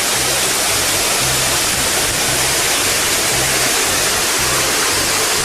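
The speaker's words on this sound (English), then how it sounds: "There's a fall falling down." A waterfall in Litchfield National Park, Northern Territory, pours down into a pool with a constant, dense rushing roar, steady and unbroken throughout, with faint low thumps underneath.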